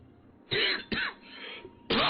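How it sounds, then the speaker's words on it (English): A few harsh, close coughs in short bursts, separated by brief pauses, with some throat clearing. "I'm all coughing and such."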